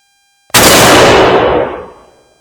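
A single booming shot from a .338 Winchester Magnum Remington 700 BDL firing a 250-grain Speer bullet at a steel plate, loud and close, with a long echo that lingers and fades over about two seconds.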